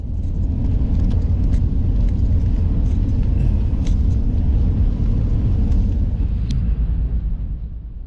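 A truck drives slowly through a state park entrance on the Colorado River in Arizona, a loud, steady low engine rumble heard from inside the cab, with occasional faint clicks and rattles.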